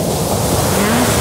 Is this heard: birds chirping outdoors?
no